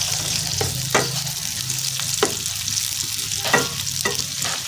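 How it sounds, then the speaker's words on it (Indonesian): Galangal, bay leaves and lime leaves stir-frying in hot oil for a spicy squid dish, a loud close sizzle broken by several sharp scraping stirs of a spatula, no speech. "Kita tumis sampai wangi ya."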